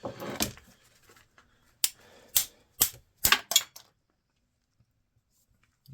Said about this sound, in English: piece of plastic just broke off